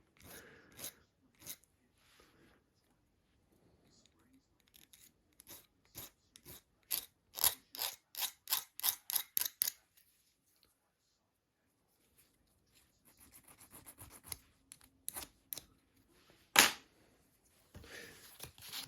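A file rasps on the cable of an FMA Supersonic crossbow in quick, sharp strokes, near and clear, in bursts with quiet pauses between.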